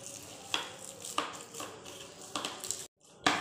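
Mustard paste being stirred into mustard oil, with a spoon scraping and clicking against the bowl in several short strokes at a steady rhythm, close and fairly quiet, with a brief silent gap near the end.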